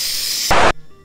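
A spray paint can hisses in one short, close, loud burst of about a fifth of a second, right after a steady static hiss, and then goes silent.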